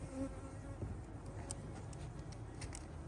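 Honeybees buzzing around an opened hive in August, a steady close swarm hum with individual bees flitting past, fairly faint and continuous.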